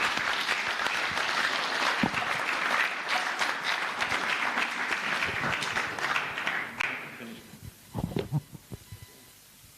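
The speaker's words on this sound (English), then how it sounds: "So if we can have a round of applause for the outgoing members." Sustained applause from attendees at an AGM for outgoing members, a dense, steady crowd of clapping that fades out after about seven seconds, followed by a few scattered claps and quiet room noise.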